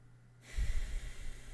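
One deep, slow inhalation during a calming breathing exercise, close and breathy. It swells after a brief quiet start and continues as a steady airy rush.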